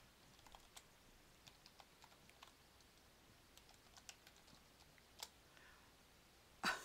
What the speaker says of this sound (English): my keyboard is sticking.